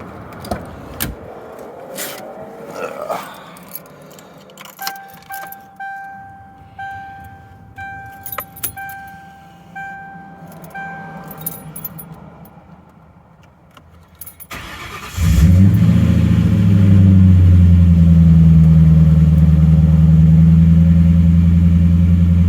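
Keys jangle and rattle around a car for a while before the engine cranks and catches, then settles into a loud, steady idle with a low rumble that continues to the end.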